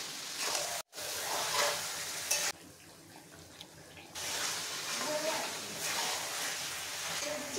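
Chicken pieces added to onion-flavoured oil and stirred, giving a steady close sizzle and frying hiss with stirring scrapes, a brief cut and a quieter stretch midway before the sizzle returns.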